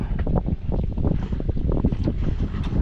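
Strong wind buffets the microphone in repeated gusts, producing a rough, blustery rumble that swells and fades without pause.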